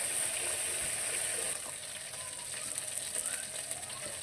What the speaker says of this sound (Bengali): তো আমি এগুলোকে সুন্দর করে ভেজে নেব।